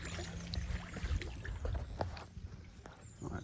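Kayak paddle strokes splash and drip close by on the water, soft irregular dips and trickles over a low background rumble.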